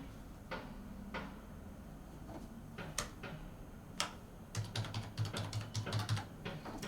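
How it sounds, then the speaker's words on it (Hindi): Account number being typed on a computer keyboard: scattered single key clicks at first, then a quick burst of rapid close-up keystrokes toward the end, with no talking. "मैं अपना खाता नंबर यहाँ पे टाइप कर लिया"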